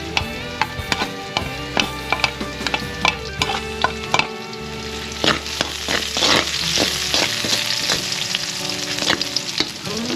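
Garlic sizzles loudly in hot oil in a pan ahead of chicken, a continuous crackling fry punctuated by repeated sharp spatula scrapes and knocks against the pan.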